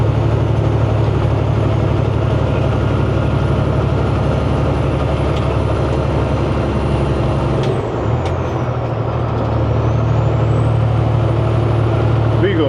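A heavy truck labours up a long uphill grade on I-40 westbound through the gorge, its engine a steady loud drone with road and wind noise throughout, and a brief hiss partway through.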